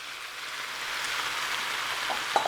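Steady hissing sizzle of lo mein sauce poured into a hot pan, a soft broadband crackle that holds evenly throughout with a small clink near the end.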